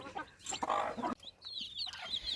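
Native hens cluck in low bursts while two-week-old chicks peep in high, thin chirps, all close by in a quiet setting.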